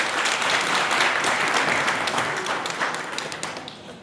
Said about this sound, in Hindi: सभी जोरदार तालियों से